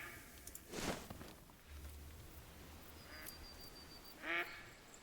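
Ducks quacking in the hunting game theHunter: Call of the Wild, a few short distant calls spread across faint outdoor ambience with soft rustling, one clearer quack near the end.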